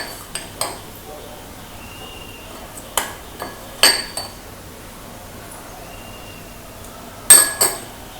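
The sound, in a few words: spooning Oreo biscuit mixture into a glass tumbler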